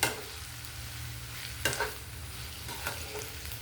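Ivy gourd frying with cumin chili powder in a pan, a constant close sizzle broken by a few sharp stirring scrapes of the spatula, with no voices.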